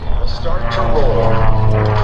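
Long-EZ aircraft engine drones steadily and loudly through a gentle aileron roll at an air show, a continuous propeller hum under a commentator's voice.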